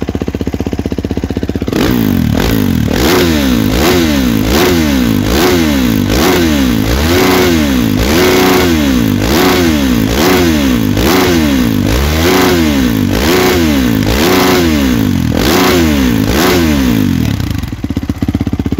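A 2023 Kawasaki KX450 dirt bike engine runs after starting, loud and close, with a steady rough idle broken by repeated rhythmic revving blips that rise and fall throughout and a harsh mechanical clatter underneath.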